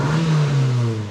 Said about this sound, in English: Definitely got quite a bad exhaust blow somewhere.